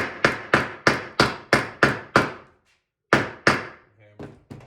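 A hammer taps a nail into a wooden canvas stretcher frame in a quick run of seven sharp, evenly spaced knocks, then a pause, then two more taps and a couple of lighter ones close up.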